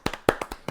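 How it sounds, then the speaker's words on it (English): A few sharp hand claps spaced apart in a quick, sparse burst, close and fairly loud with no talking. "Give yourself a round of applause for making it this far"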